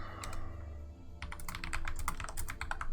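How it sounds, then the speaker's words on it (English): Someone types on a computer keyboard during an online tabletop role-playing session, a quick, close run of crisp key clicks that starts after a second of low background hum and keeps going steadily. "the sounds of the typing, they scare me"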